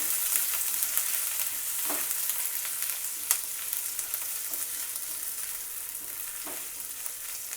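Grated ginger frying in a pan, a soft steady sizzle with a few spatula scrapes and taps as it is stirred, fairly quiet and close.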